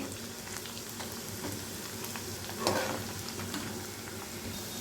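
Tempering spices crackle and sizzle in hot oil for grated mango pickle, a steady close frying hiss with light stirring and one brief louder spatter midway, with no talking.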